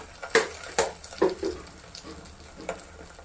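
Ginger and garlic sizzle in a pan while a spoon stirs them for palak egg masala, a few scraping clinks over a soft frying hiss.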